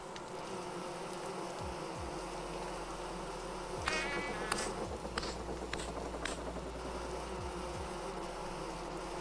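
A dense, steady drone of many bees buzzing swarms around a hive area in the survival game Vintage Story, with individual insects whizzing past now and then, moderately loud and continuous.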